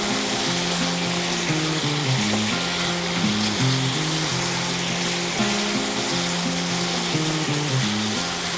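Chicken tikka pieces fry in a pan with a steady, dense sizzle and an even crackle that runs without a break, close and fairly loud, with low background hum beneath.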